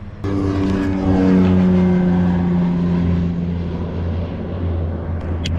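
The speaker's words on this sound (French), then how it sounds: "Tous les avions qui passent, c'est dingue." An airplane passes overhead outdoors in New Zealand, a loud, continuous roar that swells and then slowly fades over several seconds, heard alone without talk.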